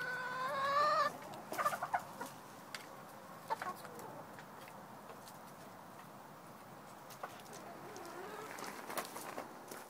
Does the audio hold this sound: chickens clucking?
yes